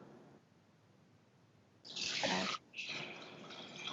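Water gushes into a pot over chai masala spices before pears are poached, coming in as a loud hissing pour after a quiet start, breaking off briefly, then resuming strongly.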